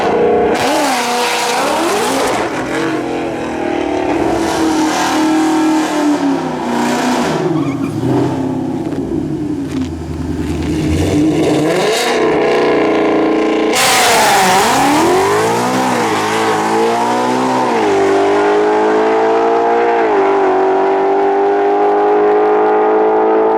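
A 2020 Shelby GT500 with a 3.8L Whipple supercharger roars loudly and continuously through drag runs, engine pitch sweeping up through gear changes, with revving, a sudden renewed launch midway and tire squeal, close and dominant throughout.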